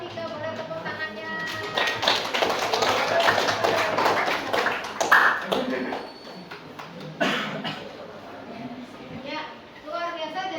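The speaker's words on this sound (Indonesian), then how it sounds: "Boleh tepuk tangannya." A classroom group claps for the third team after their experiment, giving a scattered burst of hand claps and taps mixed with chatter, loud at first and then thinning out into sparse claps.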